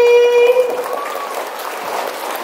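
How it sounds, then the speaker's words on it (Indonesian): Loud applause from a crowd at a school Independence Day event, a dense wash of clapping that follows a brief held tone at the start and continues steadily. "tepuk tangan buat Lovely"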